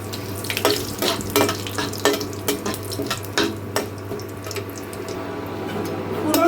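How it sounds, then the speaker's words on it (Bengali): A steady hiss of spices frying in hot oil runs throughout with scattered crackles and pops, close by and moderately loud, no voices. "এখন আমি এই ফোড়নটাকে এক থেকে দু সেকেন্ড একটু ভালো করে ভেজে নেবো"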